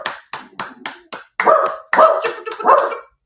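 A dog barks at the postman at home, sharp yips in a quick run of five followed by longer, rougher barks, loud and close, with no talking over them.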